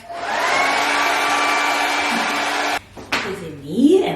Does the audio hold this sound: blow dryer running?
yes